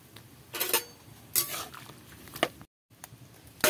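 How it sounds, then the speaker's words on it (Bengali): A metal lid clanks onto a pan of banana peels boiling in water, with a few sharp, close knocks and scrapes spread over a few seconds. "এবার আমি ঢাকা দিয়ে দেব"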